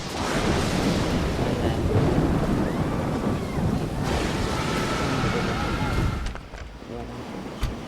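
A thunderstorm at sea in Medieval 2 Total War, with loud, continuous wind and rolling rumble that sound like crashing waves against a ship, holding steady for several seconds and then dropping off abruptly near the end.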